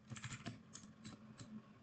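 Keys click on a computer keyboard during network configuration, a handful of soft, close taps in an uneven rhythm, ending in a press of the enter key.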